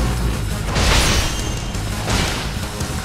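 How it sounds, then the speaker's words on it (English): A fire spell cast in the video game The Last Story gives a loud, roaring burst with two swelling whooshes, like blasts of flame, over continuous game noise. "Someone cast fire."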